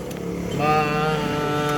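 A Honda Click scooter engine with a dirty air filter runs unevenly and strains, a steady mid-pitched drone that rises and wavers after a brief pause, close by and fairly loud.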